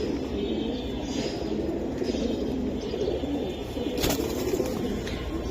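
Silver Giribaz pigeons, a racing-line pair, coo softly and continuously amid a busy, noisy background, with low murmuring calls layered over steady ambient din and one brief sharper sound near the end.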